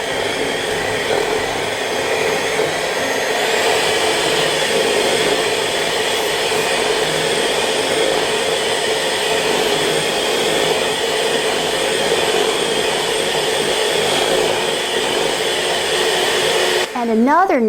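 An electric hand mixer beats batter for a one-bowl chocolate cake, a steady, loud whirring drone that runs unbroken for about seventeen seconds and then cuts off abruptly.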